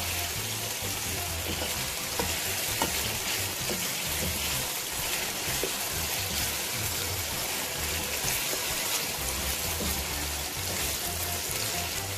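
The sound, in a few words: chicken frying and browning in a karahi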